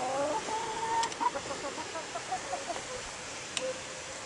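Chickens clucking close by in a farmyard, a string of short rhythmic clucks and calls with a brief louder squawk near the end, over low background noise.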